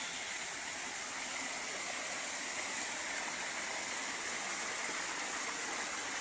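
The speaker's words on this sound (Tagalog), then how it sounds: "Grabe ka kusog sa tubig guys." Strong, fast-flowing water rushes steadily as a loud, continuous broadband roar, close by and unbroken, with no voices heard.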